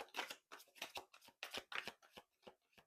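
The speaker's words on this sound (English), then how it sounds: "I'm going to go ahead and get right into the shuffle for tarot." Tarot cards are shuffled by hand close up in a rapid series of crisp riffling bursts, about a dozen quick flutters in under three seconds, with no talking.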